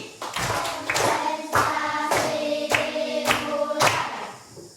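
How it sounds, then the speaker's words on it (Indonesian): A classroom of children performs a rhythmic concentration clap, sharp group claps in a patterned sequence with brief chanted voices between beats, close and lively. "Tepuk konsentrasi."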